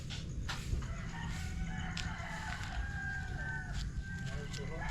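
Chickens clucking and a rooster crowing a couple of times at a distance, faint against a steady low rumble of background noise.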